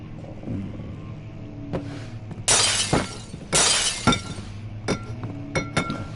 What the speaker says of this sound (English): Broke the glass.